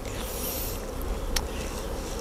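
Black honey bees buzz at a hive during a honey harvest, a dense continuous droning hum close by with a brief sharper rise near the middle, no voices.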